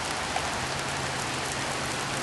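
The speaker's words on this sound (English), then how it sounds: "It's raining." Steady rain falls in a dense, even hiss with no distinct drops, faint and constant throughout the short stretch.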